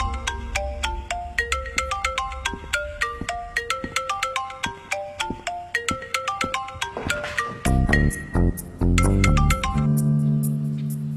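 An incoming-call phone ringtone plays a bright, repeating melodic chime pattern, loud and close, continuing for several seconds before a fuller, sustained tonal section at the end.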